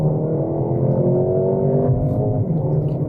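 A 2025 Mercedes-Benz GLA 35 AMG launching hard from a standstill, its engine a loud, steady drone that climbs gently in pitch throughout, heard up close with no one talking.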